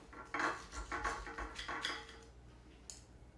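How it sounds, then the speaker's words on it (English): A knife and fork cut a slice of stuffed tenderloin on a plate, giving a quick run of close, light metallic clinks and scrapes over about two seconds before things go quiet. "we'll just cut a little slice here"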